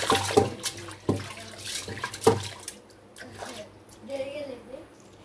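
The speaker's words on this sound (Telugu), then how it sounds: "ఇప్పుడు ఈ పప్పుని నీట్గా కడుక్కోవాలి" Toor dal is rinsed in a vessel of water, heard as a few short splashes and sloshes with wet squishing between them, close and fairly quiet, while a voice talks over it.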